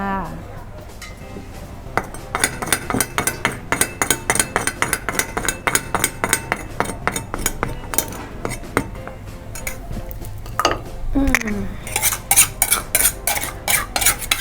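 Ground chili paste for nam prik ong is stir-fried in a pan, with rapid, rhythmic metal-on-metal scraping and clinking strokes of a spatula and pot over a faint sizzle, continuing through the whole stretch.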